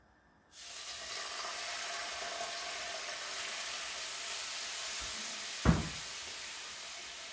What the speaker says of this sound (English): And we're gonna add some soy.